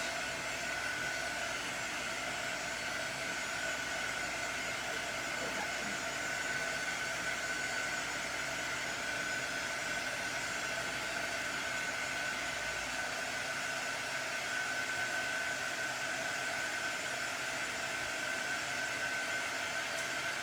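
A handheld heat tool, similar to an embossing gun but cooler, blows over paint on a craft project to dry it, giving a steady whirring, hissing airflow that runs unbroken at even volume with no talking.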